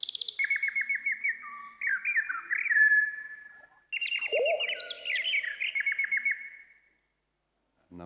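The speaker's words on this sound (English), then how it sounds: "It's a robin, which is not endangered," Robin song recording triggered on a keyboard: two bursts of clear, varied warbling phrases with trills and sliding whistles, each about three seconds long and separated by a short gap, close and alone.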